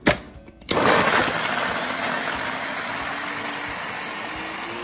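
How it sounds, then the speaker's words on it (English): Mixer grinder blitzing garlic and ginger for a Filipino-style barbecue chicken marinade: a sharp start, a short pause, then a loud, steady whirring grind that keeps going to the end, with no talking. "garlic and ginger, I'm gonna keep it here in the mixer and then grind it"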